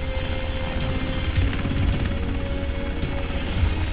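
A military helicopter used to insert special forces divers into water makes a steady, close, droning rotor chop with a constant engine whine throughout, with no voices.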